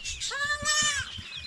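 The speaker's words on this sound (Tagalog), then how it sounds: "Yung kambing namin dito" A farm goat on a rural Philippine homestead gives one loud, wavering bleat close by, lasting about a second, with faint background noise around it.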